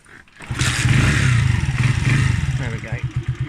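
Huonaio HN 125-8 125cc motorcycle engine turning over and catching, a low chugging rumble close by that settles into a pulsing idle, with a voice talking over it.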